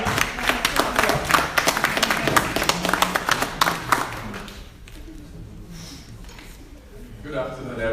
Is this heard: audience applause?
yes